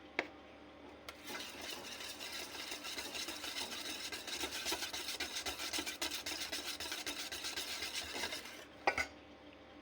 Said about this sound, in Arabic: انا هسه خليت البيضة وراح اخلي الزيت، ربع كوب زيت، وراح اخلط هاي المواد.